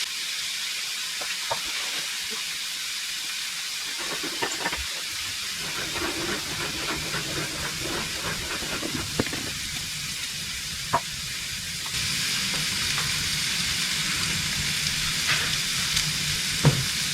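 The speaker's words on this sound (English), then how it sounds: "So while I have my hamburger patties cooking" Hello Fresh hamburger patties sizzling in a skillet, a steady close frying crackle with scattered pops and spits running throughout, no voices.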